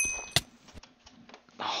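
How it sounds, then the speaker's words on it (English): A phone notification chime much like a video-game coin pickup sound: one bright, ringing ding near the start that fades quickly, followed by faint background clatter and a softer swell at the end. "did I just hear the singing Mario coin sound"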